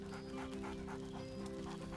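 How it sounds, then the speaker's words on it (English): Scratch, the companion dog in Baldur's Gate 3, pants in a quick, steady rhythm close by, over a soft sustained musical tone, with no talking. "Scratch barks merrily in something like agreement."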